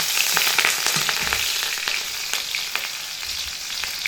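Whole cumin seeds and bay leaf crackling in hot oil for a vegetarian dal tempering, a dense steady sizzle with tiny pops, close and continuous with no voices.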